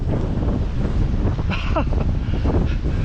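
Coastal wind near Garlieston buffets the microphone with a constant loud low rumble and roar, steady for the whole stretch with brief faint higher tones over it.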